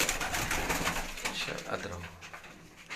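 A pet pigeon coos nearby on a Gujranwala rooftop among other birds, soft throaty calls repeating under a person speaking briefly.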